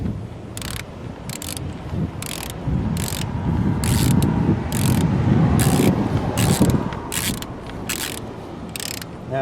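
A ratchet wrench clicks repeatedly as the battery hold-down bolt is tightened on a Toyota Camry during a battery replacement, steady close ratcheting bursts over a low mechanical rumble.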